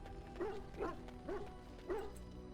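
Dog in the video game Dragon Age Origins letting out four evenly spaced, close, moderately loud woofs with a whiny yip quality, alone with no talk over it.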